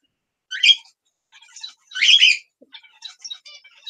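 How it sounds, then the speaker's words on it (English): Birds chirp in short, scattered bursts of high tweets, with brief quiet gaps between calls. "The birds are being noisy."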